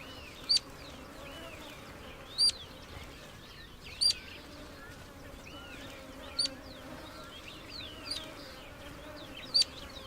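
Flying insects buzz in the Atacama Desert: a steady, faint hum fills the whole scene, broken about every two seconds by brief, sharp high chirps.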